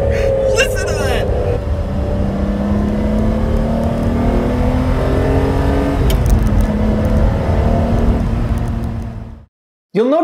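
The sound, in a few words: 1990s sports car engine revving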